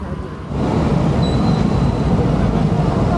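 An express train on the Konkan Railway rumbles past close by, a loud steady roar of wheels on rails starting abruptly and holding strong, with a faint high squeal.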